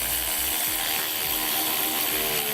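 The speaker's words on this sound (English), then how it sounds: "we can hook up the negative terminal on our battery and tighten down the nut" A ratchet wrench clicks quickly and steadily as it tightens the nut on the negative battery terminal of a 2014 Jeep Wrangler, a close, continuous mechanical rattle with no talking.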